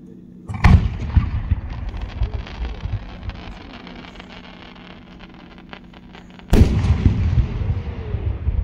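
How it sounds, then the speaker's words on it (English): An 8-inch single-break aerial firework shell bursting at a fireworks competition: a loud boom, several seconds of crackling and distant rumble, then a second heavy burst with rolling echoes, heard outdoors with some wind. "Outer pedal is lamp black willow, finishing red strobes, and the inner pedal is white glitter stars with a pistol of white strobe"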